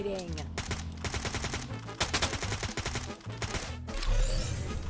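Rapid automatic gunfire in Free Fire, the mobile battle-royale game, rattles almost continuously over game music and effects, loud and close, with short breaks between bursts and a rumble near the end.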